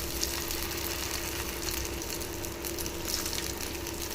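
Raw plantain slices fry in oil on a hot dosa griddle, a steady close-up sizzle with an even crackling hiss throughout and no voices.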